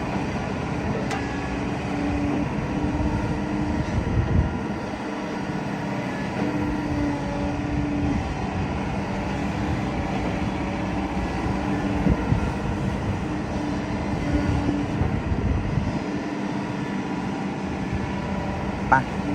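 A Kobelco SK200-10 SM excavator engine drones steadily at close range, a continuous low rumble with faint clanks over roughly twenty seconds.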